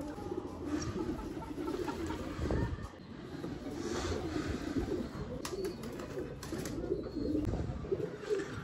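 Soft pigeon coos repeat over a steady wind-like hiss outdoors, the birds close and murmuring continuously with occasional louder calls.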